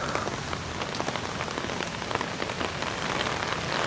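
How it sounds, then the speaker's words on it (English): Steady moderate rain in Da Nang, Vietnam, patters on a surface, a dense, even hiss of drops that continues without pause and stays constant in loudness. "It's still raining, but at least it's not raining heavily."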